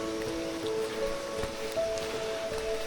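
A mountain forest stream on the Kudremukh trek runs with an even, unbroken rush of water, near and steady, with a few faint high tones over the flow and no voices.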